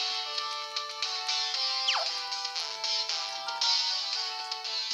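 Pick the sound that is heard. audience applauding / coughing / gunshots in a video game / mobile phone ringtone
mobile phone ringtone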